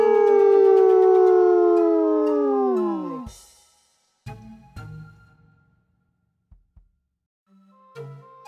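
A single long, wavering howl sung by a human voice imitating a canine, sliding downward before cutting off, followed by a few brief soft bumps and noises.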